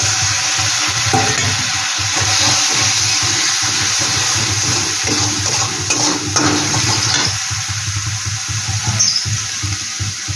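Water from a rinsed spice bowl hits a hot pan of frying spices for Bengali chela fish curry, a loud steady sizzle and bubbling hiss with light stirring scrapes, lasting the whole stretch with no voices.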